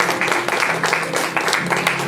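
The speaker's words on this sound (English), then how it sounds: "let's give them one round of applause" A room full of people applauds after a ribbon-cutting, with dense, bright clapping and faint voices beneath it. The clapping runs continuously and comes in slight surges.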